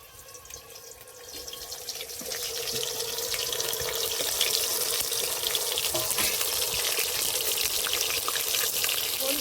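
Eggplant slices fry in hot oil with a dense, hissing sizzle that swells after the first couple of seconds and then holds steady and close, with no voices.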